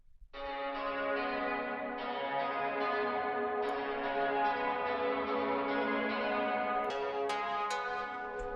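Sustained bell-like tones processed through a reverb plugin ring with long, rich reverberant tails, new strikes layering every second or so over a continuous wash of decaying sound.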